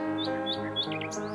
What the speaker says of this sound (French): elle chanta sa berceuse avec l'oiseau